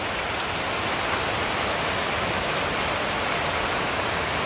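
Big raindrops pour down in a dense, steady hiss, loud and close, a continuous patter of heavy rain on surfaces with no voices over it.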